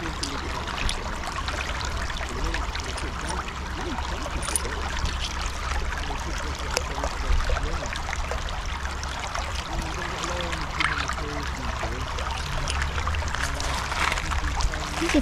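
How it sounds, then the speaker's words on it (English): A Scottish burn near Kirkcaldy trickles steadily over a bed of broken pottery kiln stilts, a continuous close babble with faint scattered clinks. "So the burn makes a lovely kind of clinky sound."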